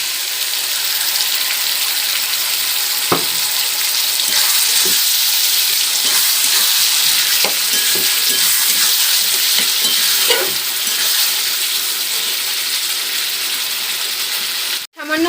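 Potatoes, onions and masala fry in a pan, a loud continuous sizzle close up with occasional stirring scrapes and clinks, ending in a sharp knock.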